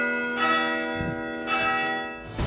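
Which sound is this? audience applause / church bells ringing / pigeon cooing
church bells ringing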